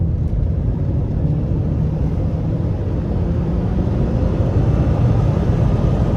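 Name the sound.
wind noise from windows of Subaru Forester XT while driving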